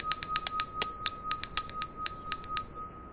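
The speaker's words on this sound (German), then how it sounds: "Ja, es sollte die Glocke aktivieren. Eine furchtbare Glocke." A bell rings in Lego City Undercover with a rapid series of bright, metallic dings, irregular and loud at first, then thinning out and fading, with no voices.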